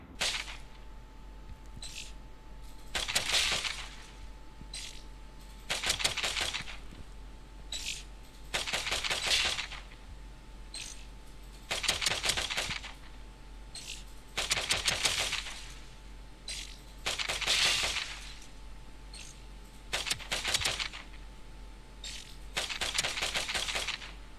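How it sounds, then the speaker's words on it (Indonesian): Video game gunfire played back through PAMU Z1 Pro true wireless earphones, with loud bursts of rapid shots repeating in roughly regular clusters every few seconds over a steady low background hum. "suara tembakan itu terasa menggelegar tapi arah musuh tuh kurang terlalu terasa"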